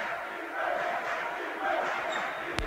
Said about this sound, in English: Crowd's into it.